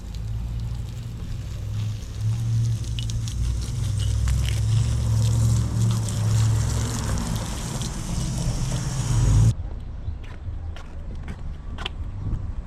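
Water sprays steadily against an older used bike for about nine seconds under a low rumbling hiss, then stops abruptly, leaving faint drips and small knocks.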